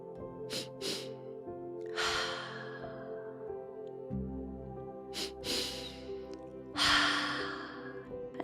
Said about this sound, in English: continue with the 2 short inhales through the nose and 1 long exhale through the mouth